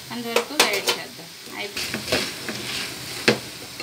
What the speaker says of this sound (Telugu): చూడండి ఎంత బాగా వేగుతుందో.